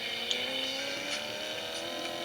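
A car in the Traffic Race video game accelerates through a city, its engine tone climbing steadily in pitch over a couple of seconds without any speech.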